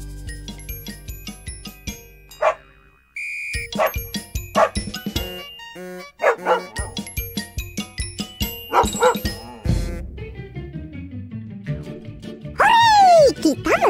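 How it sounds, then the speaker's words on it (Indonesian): Cartoon-style dog barks and yips ring out repeatedly amid bright jingling music and sound effects, with voices talking throughout. "Hei, kita melihara guguk."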